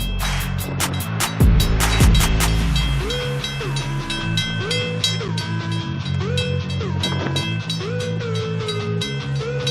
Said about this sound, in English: this footage demonstrates how the train engineer plows through massive snowbanks with ease